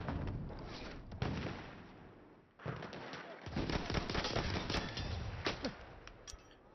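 Rapid gunfire bursts and sharp shots crackle through a competitive Apex Legends-style Incursions 5v5 shooter match on PS4, dense and near, with a short lull midway before the firing resumes heavily.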